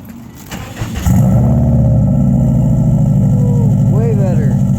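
A 2002 Subaru Impreza WRX with a turbo-back exhaust and its silencer removed cranks and fires up, then settles into a loud, throaty, burbling idle close by.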